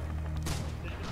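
Gunfire in the World War II shooter game Red Orchestra 2, a dense burst of shots with a sharp crack midway, heard over a constant low rumble of battle noise.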